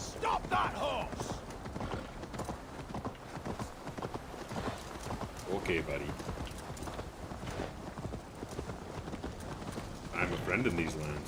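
Horse hooves clip-clopping at a run in the video game Assassin's Creed Valhalla, a steady rhythmic beat running through the whole stretch under game music, with brief talk from a character.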